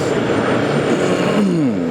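A Pinnacle Airlines jet takes off at JFK airport, its loud, steady engine roar filling the air, with a gliding whine that sweeps downward near the end.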